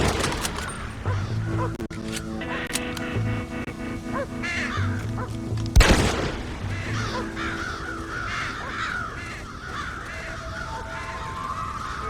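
Crows caw repeatedly in a Red Dead Redemption game scene, harsh calls rising over a steady outdoor ambience with a musical drone, and a sharp bang near the middle.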